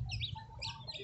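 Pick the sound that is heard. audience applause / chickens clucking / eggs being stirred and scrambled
chickens clucking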